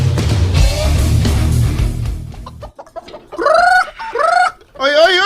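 Several loud, squawking chicken clucks arrive in bursts after a few seconds of noisy, muddled commotion close by.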